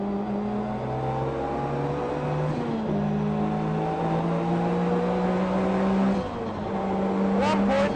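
A Sierra race car with turbo boost accelerates hard through the gears. The engine whine climbs steadily in pitch, drops sharply at two quick gear changes, then rises again, loud and close throughout.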